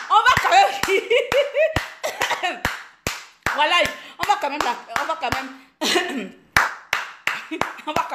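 Sharp, regularly spaced hand claps ring out in a steady rhythm while a voice keeps talking over them in a lively gathering.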